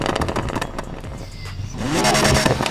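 A sports car engine in the video game Need for Speed Heat cranks and fires up, rough pulsing bursts giving way to a rising rev and a sustained, throaty roar near the listener.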